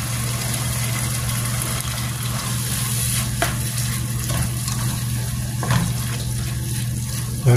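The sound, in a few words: sardines added to cooking tomatoes, sizzling in pan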